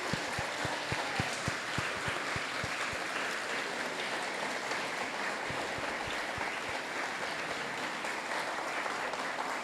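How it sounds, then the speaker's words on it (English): Steady applause from a crowd fills the whole stretch, dense and continuous clapping with a few sharper claps standing out early on. "We'll give you a round of applause."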